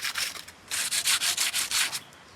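Sandpaper rubbing over a fake rock planter in short repeated strokes, close and clear, a quick burst followed by about six rhythmic back-and-forth scrapes.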